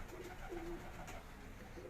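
A Salara pigeon gives a soft, low coo, brief and somewhat faint against a murmuring outdoor background.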